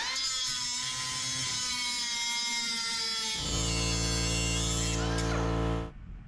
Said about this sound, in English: The 8-gallon air compressor cut through the 1/4 inch very easily on the first cycle.